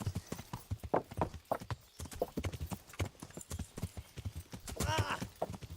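Horse hooves clip-clop steadily in Kingdom Come: Deliverance, a fast rhythmic trot of close, distinct hoofbeats, with a brief whinny near the end.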